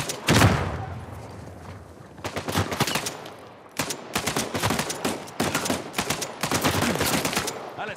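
Bursts of rapid gunfire rattle in several volleys after a single loud blast in Uncharted 4, sharp and close, with brief pauses between them.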